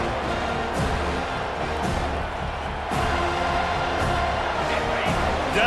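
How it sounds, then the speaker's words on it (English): A steady roar from a stadium crowd in the College Football 25 video game, swelling on a third-down defensive play, sustained and fairly loud throughout with no clear breaks. "Decibels rising as the crowd gets behind this defense on 3rd down"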